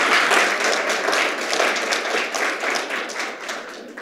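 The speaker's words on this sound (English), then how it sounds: "Can we get a round of applause for the alums in the room?" A room of alumni gathered for a school speaker-series evening breaks into steady applause, dense and close, fading slightly toward the end.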